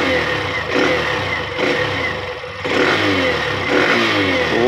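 A Hero Xtreme 125R motorcycle engine revs up close in repeated bursts, the pitch climbing and falling over a steady idle, loud and with no talking.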